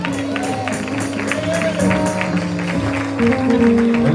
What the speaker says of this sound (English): Come on and clap those hands.